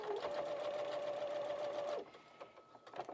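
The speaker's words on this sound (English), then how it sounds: "So now I'm getting close to the top here, so I'm going to go ahead and back stitch a couple of stitches." A home sewing machine back-stitching a fabric gift tag, a close, steady motor whir with fast needle rhythm for about two seconds, then stopping, leaving light handling noises.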